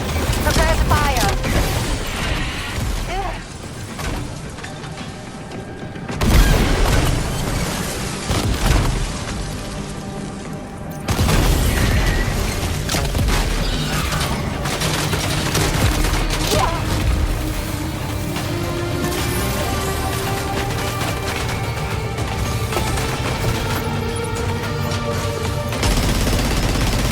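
Gunfire rattles in the video game Death Stranding 2, sustained bursts of shots and heavy booms mixed with crashes and a voice, loud throughout with a brief lull before the barrage resumes.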